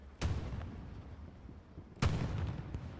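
A tank crew firing the main gun in the video game Hell Let Loose, two heavy booming shots about two seconds apart, each followed by a lingering rumble.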